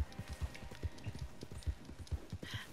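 Rapid video game horse hoofbeats clip-clop in a steady galloping rhythm, fairly quiet and unaccompanied by talk.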